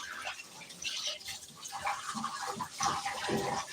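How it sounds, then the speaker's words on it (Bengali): Tap water runs and splashes while fish are washed in a bowl. The wet, irregular sloshing and trickling is close by and rises and falls as the fish are handled, with no speech. "এই যে আরো মাছ ধুয়ে রাখলাম"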